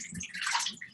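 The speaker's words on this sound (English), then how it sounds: "So I'm going to do a nice little rinse of these" Water splashes and gurgles briefly and faintly as sprouting seeds are rinsed.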